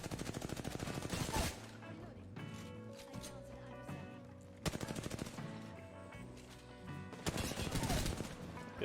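Rapid machine-gun bursts and volleys crackle through a team fight in Apex Legends, loud and repeated in several clusters, with voices talking over the shooting.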